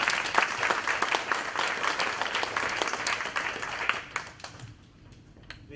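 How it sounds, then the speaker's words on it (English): A crowd applauds for event sponsors during a Navajo artists gallery walk at the Booth Museum, dense steady clapping filling the room before thinning out and fading toward the end. "How about a round of applause for our sponsors?"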